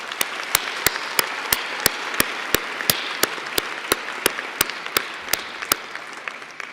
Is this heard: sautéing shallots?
no